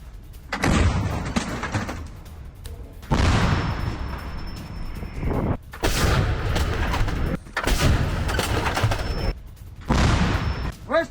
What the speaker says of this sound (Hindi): पोक्रोवस्क में रूस का हमला और पोक्रोवस्क पर तोपों से गोलों की बौछार कर दी